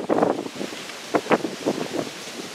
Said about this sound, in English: that wind seems to pick up just as I want to face it